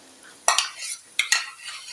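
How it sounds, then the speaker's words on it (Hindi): Garlic and ginger frying in a pan for Punjabi-style sarson ka saag tadka, with spoon stirring scrapes in two quick pairs over a soft sizzle, close and fairly quiet, no voices. "तो ये हमारा लहसुन और अदरक जो है तकरीबन फ्राई हो चुका है"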